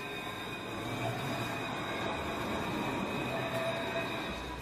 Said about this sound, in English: Luas, Dublin's modern urban tram system, provides a link from the city's outer suburbs into its centre.